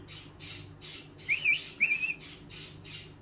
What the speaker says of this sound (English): I'm trying to teach him to whistle instead of squawk like that.